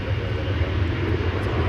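Boeing 737-800 airliner at DFW Airport, its engines a steady, loud low rumble with a broad roar above it, constant throughout with no voices.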